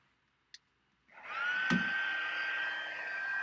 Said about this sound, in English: We're going to take our heat tool here.